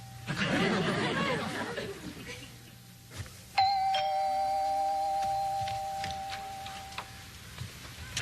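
A doorbell chimes once in the sitcom Small Wonder, a sustained electronic tone ringing out clearly after some background chatter and murmuring voices.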